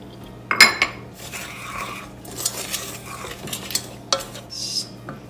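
Sugar and cornstarch stirred together in a pot with a utensil, giving close irregular scraping and clinking strokes against the metal with short pauses.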